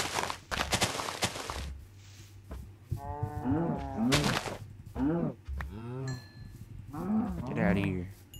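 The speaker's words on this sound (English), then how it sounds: "I see some cows." Cows moo in a Minecraft-style video game, several drawn-out lowing calls in a row, fairly close and clear, broken up by sharp clicks and thuds from the game.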